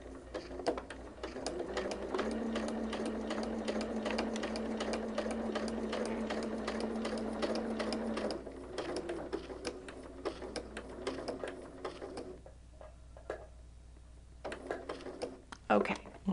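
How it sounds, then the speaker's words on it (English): A sewing machine runs steadily, stitching a quilt block out to the point of a star, with a continuous mechanical whir that slows and stutters near the end as the machine is swung around. "we're going to swing our machine around, needle down, and we're going to sew to the end of the point of the star"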